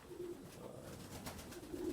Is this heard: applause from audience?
no